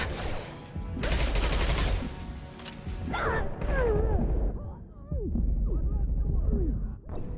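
Rapid gunfire bursts from Mass Effect 2 combat, loud and dense in the opening seconds, then fading into pauses while game voices call out over the action.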